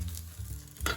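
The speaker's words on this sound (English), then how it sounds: "Pour the mix into a frying pan, adding some of the yakisoba noodles and pork strips on top." Okonomiyaki batter topped with yakisoba noodles and pork strips sizzles in a frying pan, a close, steady crackle with a louder burst of spatter near the end and no talking.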